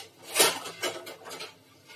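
A lid set on a pot of Banarasi potato and pea curry: a few short metallic clinks and knocks, one sharp tap followed by lighter rattles, close and fairly quiet, with no talking.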